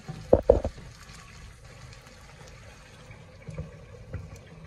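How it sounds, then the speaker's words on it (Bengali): Water poured into a pan of tel koi fish frying in oil, giving two brief loud splashing hits up front, then a low bubbling, boiling hiss that carries on quietly, close by and without speech. "এখন আমি এটার মাঝে জল দিলাম।"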